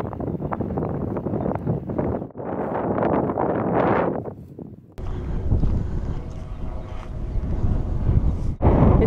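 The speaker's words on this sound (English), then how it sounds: "it is so windy" Strong wind on a hilltop in the Quantock Hills buffets the microphone in loud, continuous gusts, with a heavy low rumble that swells and briefly drops before roaring again.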